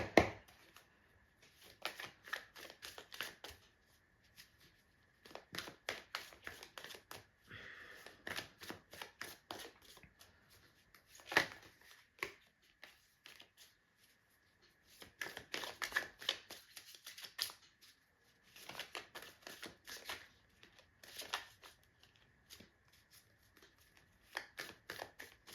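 Tarot cards are shuffled and handled in repeated bursts of crisp riffling and flicking, close and light, separated by short quiet gaps over about twenty-five seconds.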